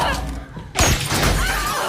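A gunshot in a tense film scene near a minimarket, with a sharp loud crash of shattering glass about midway and a burst of debris and noise trailing after it.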